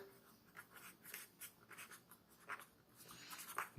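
Math is written on paper or a board in short, quiet scratching strokes, a rapid irregular series of faint pen or chalk marks close by.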